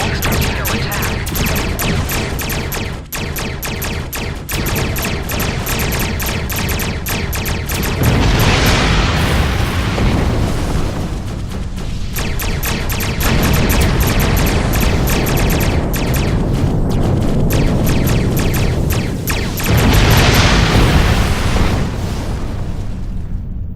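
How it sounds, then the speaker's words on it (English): Torpedo hits and explosions in a Star Trek Online starship battle against a decloaking Klingon ship, loud dense booms and bursts rolling continuously over a constant combat din, with swells of bigger blasts. "Increase the power of your next torpedo attack."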